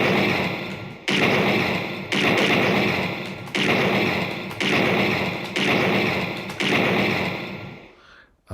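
Gunfire at the shooting range in Snatcher, a 1994 Sega Mega-CD video game: six heavy, evenly spaced shots about a second apart, each ringing out and fading before the next, loud and alone.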